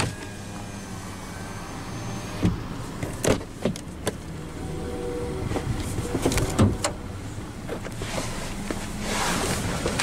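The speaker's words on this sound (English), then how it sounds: "let's go ahead and roll down the driver's window" The driver's-side automatic power window of a 2018 Kia Soul Plus rolls down, with a few sharp clicks and thumps over a low, steady motor whir and faint background hum.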